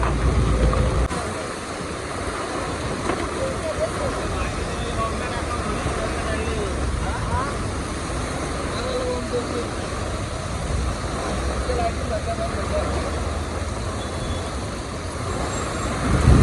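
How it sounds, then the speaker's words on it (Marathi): Heavy rain hisses steadily throughout, with people talking and chattering nearby under the constant wash. "काही पाऊस पडायला लागला आहे बघा"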